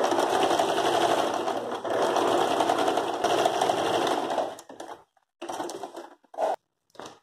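A sewing machine stitches denim for a rug made from old jeans, running loud and steady for about four and a half seconds, then breaking into a few short, separate bursts with pauses between.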